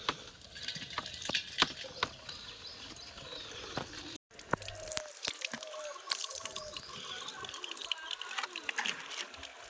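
Tap water runs and splashes into a container as water is collected, a continuous near patter with scattered drips and knocks, briefly cutting out before resuming.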